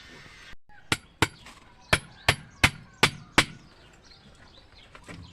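Seven sharp chopping blows split a wooden stake at a steady, slightly uneven pace, each a crisp close crack, with quiet pauses between.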